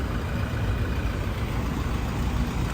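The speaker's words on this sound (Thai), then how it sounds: "ตอนนี้เครื่องยนต์สตาร์ทอยู่นะคะ" A 2016 Toyota Hilux Revo 2.4 Prerunner pickup engine idles, giving a steady, even, low hum with no other sounds over it.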